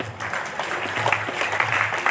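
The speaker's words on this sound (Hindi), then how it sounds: "ये जो बार बार तालियां बजवाता हूँ" An audience claps steadily at a devotional talk at the Baba Basukinath temple, a sustained, fairly loud patter of hands with a low hum beneath it and no speech on top.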